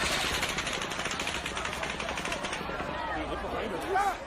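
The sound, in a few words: rapid gunfire from semi-automatic weapons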